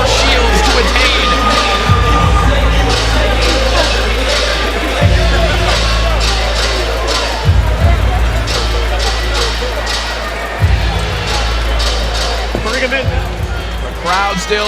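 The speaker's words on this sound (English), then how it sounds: "The crowd still in an absolute frenzy here" A crowd at a women's boxing match roars and cheers continuously in a dense wall of noise, with a commentator talking over it and repeated low thumping pulses underneath.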